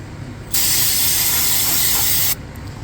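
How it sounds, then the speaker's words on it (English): A can of aerosol brake parts cleaner sprays onto the brake parts of a 2007 Toyota Prius in one steady, loud hiss lasting about two seconds, then cuts off sharply, leaving quiet background noise. "Spray this off again with brake parts cleaner."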